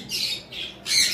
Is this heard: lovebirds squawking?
yes